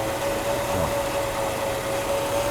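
A Mercedes W126 300SEL idles at about 700 rpm after a fuel distributor rebuild, giving a steady, even engine hum with a faint constant whine and no voices.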